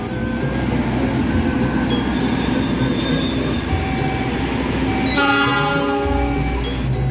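The Malabar passenger train pulls into Bandung station, a loud, steady rumble of rolling cars with a sustained horn blast about two thirds through, close and dominant.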